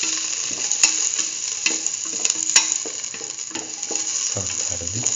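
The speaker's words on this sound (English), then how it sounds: "Now put in the garlic," Garlic sizzles in a frying pan for a chayote and green peas stew, a continuous high hiss broken by repeated scraping clicks of stirring, close and moderately loud, with no voice.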